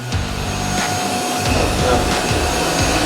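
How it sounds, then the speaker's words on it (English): A Miele Boost CX1 Cat & Dog vacuum cleaner running on carpet, a loud, steady whirring motor drone with slight shifts in pitch as it moves, close and continuous with no talking. "There's nothing like a good line, good vacuum line on a carpet."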